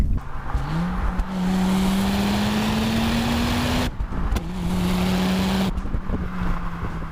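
A 1990s Audi-Porsche RS2 turbo car revving hard as it accelerates, a rising engine howl through gear changes with brief lifts between pulls, loud and close over wind and road roar.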